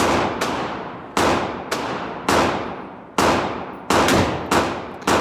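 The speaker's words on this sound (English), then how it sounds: "we're going to shoot these again, starting out" Seven loud .357 revolver gunshots fired at a target 30 feet away, sharp close cracks with ringing decay, spaced unevenly about half a second to a second apart, no talking.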